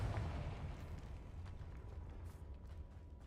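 A Confringo blast spell in a Harry Potter-style magic game, a deep low rumbling explosion that booms loudly at the start and then rolls on as a sustained heavy roar with no voices over it.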